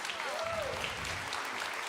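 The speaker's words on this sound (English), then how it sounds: "let's give them one more round of applause" An audience at a live country music show claps in a steady, dense round of applause, close and continuous for the whole two seconds, with a brief cheer near the start.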